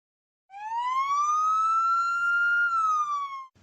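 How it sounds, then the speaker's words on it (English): Police car siren sounding alone: one clear, close wail that rises slowly and then falls away over about three seconds. "Police car."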